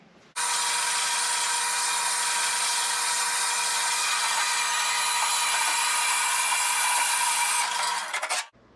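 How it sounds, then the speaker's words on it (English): An old bandsaw cuts through 1.25-inch steel angle iron in one steady, loud, continuous metallic grind and whine. It runs unbroken for about eight seconds and then stops abruptly, with no talking. "My bandsaw may be old, but that sumbitch cuts like hell"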